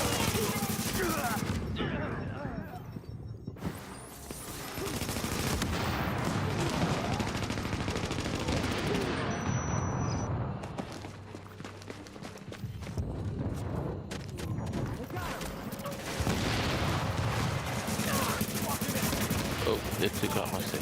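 Rapid gunfire cracks through a firefight in The Division, with bursts of automatic fire and scattered shots, some near and some farther off, over a noisy battle and brief speech.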